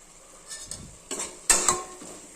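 Chicken marinated with garam masala, ginger-garlic paste, yogurt and lemon being stirred in a pot for biryani, a few short close scrapes and clinks of the spoon against the pot, with no talking.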